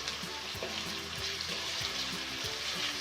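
Ginger garlic paste and fried onions sizzle in a pan, a dense steady hiss with soft scraping and stirring noises throughout.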